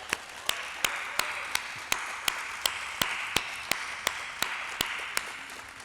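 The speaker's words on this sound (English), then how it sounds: "could we give Madison just one more big round of applause?" Sparse, distinct hand claps at a fire chief transfer of command ceremony, evenly spaced sharp slaps over a faint background of quieter clapping, moderately distant.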